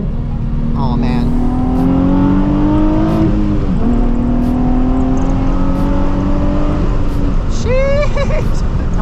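Nissan 350Z engine droning loudly and steadily, pitch climbing then dropping sharply into a brief rev blip on a downshift near four seconds, then rising again with another quick gear change near the end, a voice speaking over it.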